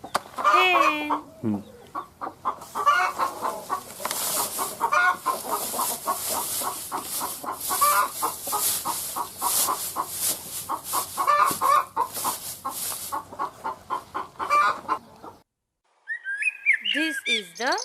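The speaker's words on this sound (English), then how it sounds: "hen." A hen clucks among a busy flock of chickens, with continuous clucking, chirping and farmyard bird noise, and a voice speaks briefly at the start and end.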